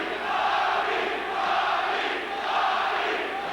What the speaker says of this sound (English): The crowd is chanting Bobby.